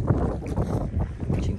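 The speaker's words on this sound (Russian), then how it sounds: "Ветерочек." Wind gusts buffet the microphone on the stony bank of the Angara river, a low rumbling rush that swells and eases in uneven puffs, fairly close and without talk.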